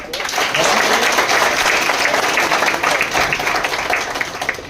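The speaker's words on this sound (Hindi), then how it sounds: "एक बार जोरदार तालियां।" A crowd at a gathering bursts into loud, dense applause that carries on steadily for about four seconds, close and sustained before easing off at the end.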